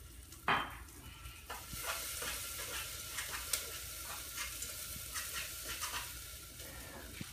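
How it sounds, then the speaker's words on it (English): Garlic sizzles and fries in oil with onions in a pan, a steady crackling hiss with stirring scrapes, close and fairly quiet, opening with a brief louder clatter. "I'm gonna put in this garlic."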